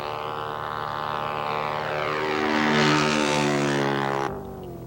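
Light propeller airplane engine droning steadily in flight during an aerobatic maneuver, the pitch sweeping and swelling to a loud peak before cutting back abruptly near the end, heard alone without talk.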